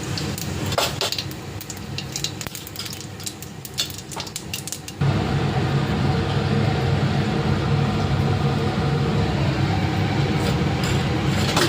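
Cumin seeds tempering in a small amount of hot oil while cooking raw banana and potato, a steady close sizzle with light clinks of a pan at first, then a louder, denser crackling hiss running to the end.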